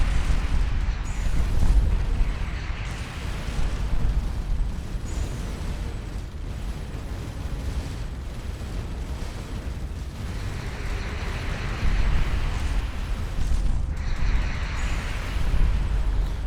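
Missile explosions in the space game Starcom Nexus, rumbling in deep, muffled booms that come one after another and swell now and then, with no speech over them.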